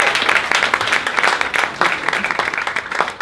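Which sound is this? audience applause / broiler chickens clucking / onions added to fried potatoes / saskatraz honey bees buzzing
audience applause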